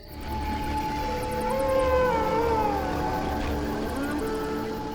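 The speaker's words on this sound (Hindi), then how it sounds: "यहाँ बहुत सारे भेड़िया हैं।" Long, wavering howls rise and fall at a distance, several voices overlapping over a low steady rumble.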